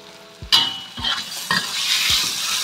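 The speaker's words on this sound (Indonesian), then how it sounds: "Tumis bumbu sampai matang panas ya" Spice paste with galangal, lemongrass, lime leaves and bay leaves sautés for beef gulai: a bright frying hiss broken by several scraping stirs of a spatula in the pan, close and fairly loud.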